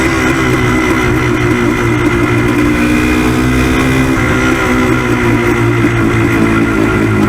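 A Yamaha DT360 two-stroke motorcycle engine revs out cleanly near full throttle, giving a steady, loud buzzing drone with slightly wavering pitch close by and no voices.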